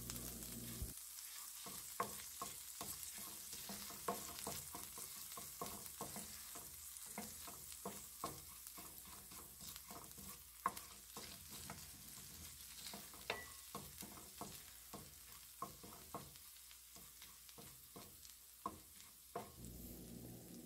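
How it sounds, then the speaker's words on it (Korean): Garlic sautés in a pan with a quiet, continuous sizzle, punctuated by many small scraping clicks as it is stirred around at a steady pace for about twenty seconds. "마늘이 골고루 타지 않고 익을 수 있도록 휘적휘적 잘 풀어주세요"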